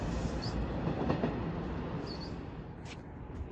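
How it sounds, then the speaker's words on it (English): An NJ Transit train pulls into Newark Penn Station with a steady, fairly faint rumble of wheels and cars rolling along the rails, plus a few brief high squeals, with no talk over it. "Here comes the train to Newark Penn Station."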